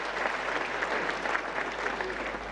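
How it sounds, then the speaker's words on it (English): An audience gives a steady round of applause at a UNICEF event celebrating communities that are now open defecation free; the clapping is even and moderately quiet, continuing throughout without pause. "Let's give them a round of applause."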